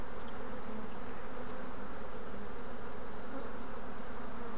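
A dense honeybee swarm buzzes steadily up close, a continuous even drone with no talk, as a beekeeper searches the swarm for its queen.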